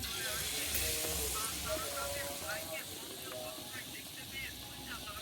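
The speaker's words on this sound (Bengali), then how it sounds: "এখন বেগুনি ভাজবো" Battered eggplant slices frying in hot oil for beguni at an outdoor family picnic, a steady, fairly faint sizzling hiss running under continuous talking.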